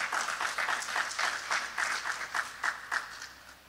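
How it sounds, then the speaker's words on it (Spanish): A church congregation claps together after a call to applaud God, a steady run of rhythmic hand claps filling the room for several seconds, moderately loud with no voices over it. "Denle un aplauso fuerte a nuestro Dios con todo el corazón"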